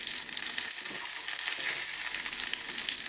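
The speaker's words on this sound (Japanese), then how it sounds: "油が温まったら身の方にかける。" Hot oil is poured over the flesh of a freshly caught fish and sizzles in a loud, dense, continuous hiss close up, with no talking.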